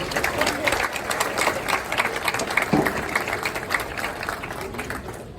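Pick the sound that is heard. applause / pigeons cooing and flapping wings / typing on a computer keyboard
applause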